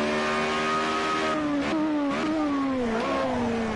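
A Formula Renault race car engine in Project Cars 2 at the Catalunya circuit, droning at steady high revs, then dropping sharply in pitch through quick downshifts with brief stutters, loud and continuous.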